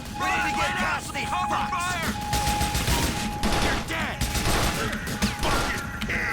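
Rapid gunfire bursts crackle through a firefight in GTA: The Lost and Damned, repeated shots overlapping amid game noise while someone talks over much of it.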